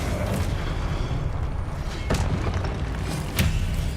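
Confringo fire spells blast in Hogwarts Legacy as booming, rumbling explosions, with sharp impacts standing out over a dense, continuous low roar of game noise.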